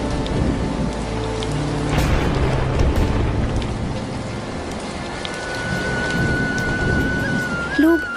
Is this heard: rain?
yes